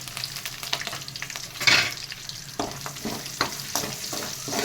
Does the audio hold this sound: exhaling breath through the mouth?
no